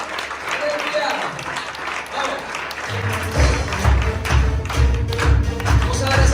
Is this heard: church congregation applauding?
yes